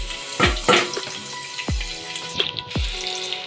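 Finely chopped medium-sized onion hits hot oil in a pan and fries with a steady crackling sizzle, punctuated by a few dull thumps and clatters nearby.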